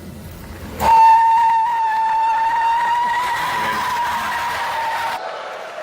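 Loud, sustained squeal of a Tesla Cybertruck electric pickup's tires spinning during an uphill tug-of-war, holding a steady high pitch for about four seconds before cutting off abruptly.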